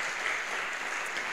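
A church congregation at a Pentecost service applauds in a short, even burst of clapping that holds steady throughout without speech.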